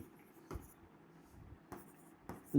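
Soft scratching of writing on a board during a Bengali grammar lesson, with faint strokes and a few sharper taps, quiet and near, with brief speech at the end.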